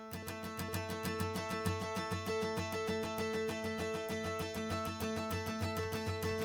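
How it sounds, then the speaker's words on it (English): High guitar lines treated with delay and panned hard left and right form a steady, rhythmic stream of bright repeated plucked notes, played alone without talk. "what if I recorded some like really high parts on the guitar"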